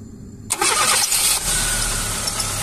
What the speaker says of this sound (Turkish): Kumandadan tetikleme ile aracı çalıştıracağım.